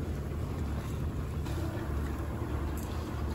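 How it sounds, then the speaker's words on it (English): Gusty wind buffets a sailboat motoring into a headwind at sea off New Zealand, a steady broad rush of wind and water noise with no talk. "Now we've got some gusts coming through here"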